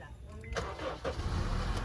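A car engine cranks and catches in a few rough bursts before settling into a steady running rumble, with people talking over it.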